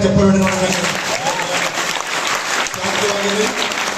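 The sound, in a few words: loud applause from audience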